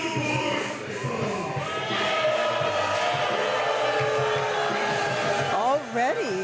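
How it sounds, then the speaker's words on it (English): Crowd noise fills the arena at the Hybrid Mania wrestling event, a steady broad murmur of many voices that sits beneath loud commentary, with a rising voice near the end. "already the crowd is not happy"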